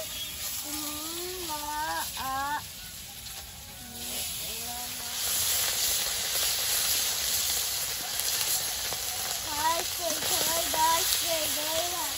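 Fish sizzling in hot oil in a home kitchen, a steady broadband crackle and hiss running throughout under intermittent nearby speech, slightly louder in the second half.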